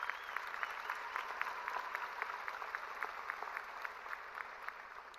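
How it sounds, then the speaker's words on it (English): A graduation crowd at Papillion La Vista High School's 2021 ceremony gives a round of applause, faint and distant, a steady patter of many hands in a large space. "Another round of applause, please."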